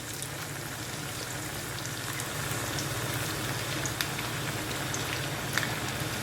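Plantain pieces frying in warm oil for mofongo, a steady, soft crackle and sizzle with scattered tiny pops, fairly quiet and uninterrupted.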